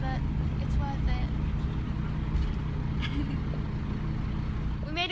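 A bus heading to Whitley Bay gives a continuous, close, low engine rumble with road noise, steady and unbroken from start to finish.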